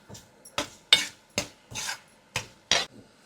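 Mutton keema with green peas is stirred in a pan, seven distinct scraping strokes of a spoon at a steady rhythm, close and fairly quiet.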